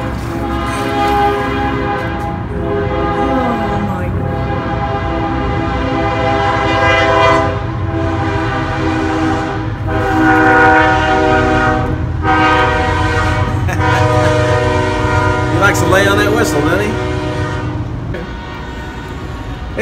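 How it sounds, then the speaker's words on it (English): A train rumbles past steadily with a loud, sustained horn sounding over the rolling noise, swelling mid-clip before easing slightly at the end. "wait just a minute for the train"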